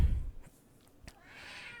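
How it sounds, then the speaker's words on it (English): A pet cat called Thief Kitty lets out a faint, drawn-out meowing howl in the background after a brief bump at the start. "While you hear Thief Kitty howling in the background"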